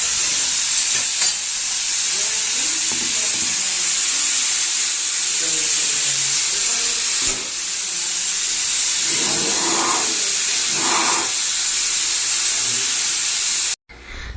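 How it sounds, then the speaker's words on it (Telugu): Steam hisses steadily from a pressure cooker cooking rice in a home kitchen, a loud, continuous broadband rush that carries on nearly the whole time, with faint kitchen clatter underneath. "ఇంకా ఆ ఆవిరి కూడా పోవట్లేదు మీరే చూడండి"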